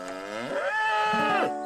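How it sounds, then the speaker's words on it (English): A single long, loud moo from cattle at feeding time on a Charles County, Maryland farm, rising and then holding steady before it breaks off, heard close and on its own. "A chorus of impatient moos fills the air at Newport Valley Farm in Charles County."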